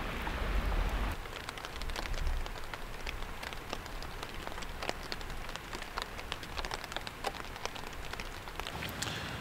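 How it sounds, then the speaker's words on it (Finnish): Steady rain patters on a surface outdoors in Lapland in early summer, on a hike with a dog, a dense continuous crackle of drops that carries evenly through the whole stretch with no voices. "Kuten ehkä ropinasta saattaa vähän kuulua, niin vettä tulee"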